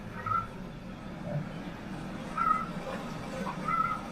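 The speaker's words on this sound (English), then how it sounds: "This is going to be the snow goose." Faint honking calls of a goose sound three times at a distance, spaced a second or so apart over a low background murmur.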